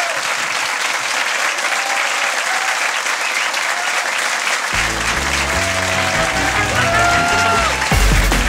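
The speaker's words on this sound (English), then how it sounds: "Ladies and gentlemen, massive round of applause." A studio audience at a live comedy podcast recording breaks into sustained applause with some cheering, loud and continuous throughout, with music joining near the end.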